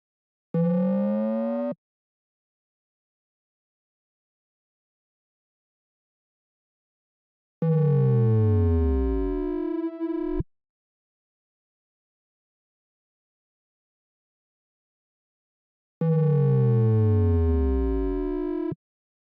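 A synth riser patch built in Ableton Operator plays three separate times, each a loud, clean, pitch-sweeping electronic tone. The bursts are separated by long stretches of silence, and the longer middle sweep bends noticeably.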